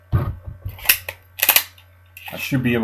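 A Glock G19 Gen 4 pistol slide pulled back and released, with sharp metallic clacks and snaps between pauses, someone speaking briefly near the end.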